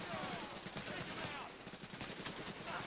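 Tom Clancy's The Division gunfire, a steady stream of quick shots at moderate distance, fairly faint and smeared together under a noisy game backdrop.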